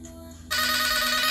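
A phone's ringtone for an incoming call starts abruptly after a quiet half second, then rings loud and steady as a bright electronic tone with no one speaking.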